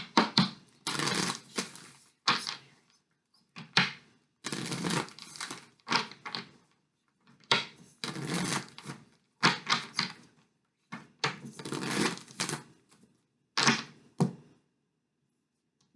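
Tarot cards are shuffled by hand to draw an advice card, crisp close riffling bursts repeating in irregular clusters with short silent pauses between them, no talking.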